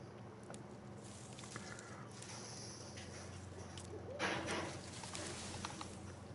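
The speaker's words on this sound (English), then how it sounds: "See, I'm hearing birds right now." Birds call faintly in the open world of the survival game DayZ, soft cooing and chirps scattered over a steady ambient hiss, with no talk.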